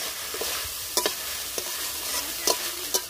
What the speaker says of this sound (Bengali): তো ভালো করে আমি মোচা আর আলুর সঙ্গে মিশিয়ে নিয়েছি নেড়ে চেড়ে।